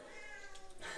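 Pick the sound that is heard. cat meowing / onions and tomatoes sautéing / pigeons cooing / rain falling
cat meowing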